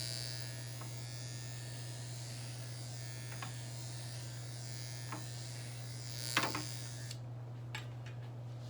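An electric hair clipper runs steadily throughout an Afro haircut, giving a constant close buzz with a few faint ticks and a louder clack near the end.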